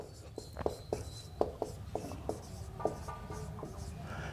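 Marker or chalk writing a heading on a board during a physics lecture on capacitors: a series of short, scratchy taps and strokes in an irregular rhythm, close and fairly quiet.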